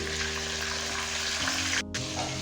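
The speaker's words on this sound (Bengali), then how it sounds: "এবার একে একে মাছের মাথাগুলো ভেজে নেব।" Fish heads coated with salt and turmeric fry in hot oil, a steady close sizzle running throughout with a brief dip near the end.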